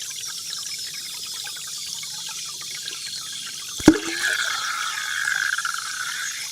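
High-pitched underwater bubbling and fizzing from sidewalk chalk dissolving, picked up by a hydrophone; a sharp click lands near the middle, then a sustained bright bubbling hiss rises and carries on to the end over faint background noise.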